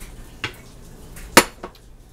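A few light metallic clinks and taps as mushrooms are stirred in a cooking pot of beef broth, three brief knocks with one sharper and louder than the others.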